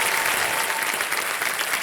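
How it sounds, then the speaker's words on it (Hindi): A studio audience on the KBC quiz show set gives loud, dense, sustained applause welcoming the Shark Tank team, a steady wash of clapping heard alone with no talking. "बहुत बहुत स्वागत एक बार फिर जोरदार तालियों के साथ।"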